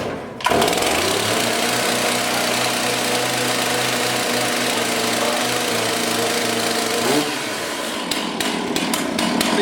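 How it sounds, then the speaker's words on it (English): A small two-stroke engine with a decompression button fires up suddenly and runs with a loud, steady buzzing drone for several seconds before cutting off abruptly, leaving a few faint clicks. "See how that thing needs to run when it first cranks up?"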